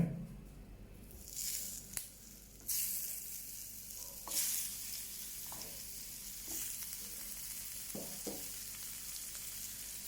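Dried fish frying in a pan gives a steady, close sizzle with scraping and stirring bursts throughout, and no voices.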